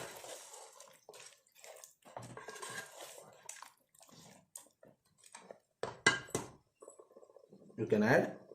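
Water is poured into a pan of Mangalore dhaba-style chicken curry, with a splashing, bubbling burst near the end, after clattering and sizzling under a person talking.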